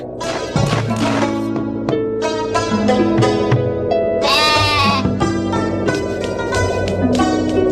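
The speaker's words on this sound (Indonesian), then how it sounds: "Itu namanya kambing pintar." A goat gives a short, wavering bleat that rises above steady, loud background music with plucked and sustained tones.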